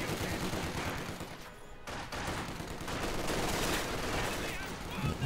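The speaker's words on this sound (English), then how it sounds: "I see another MG just opening up with a suppression round on these conscripts" Sustained machine-gun suppression fire in a strategy video game, with dense overlapping bursts rattling almost continuously and a brief lull near the start.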